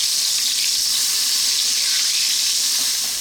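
Belly pork fries in a pan while being basted, giving a loud, dense, continuous sizzle with a hissing crackle that holds steady throughout.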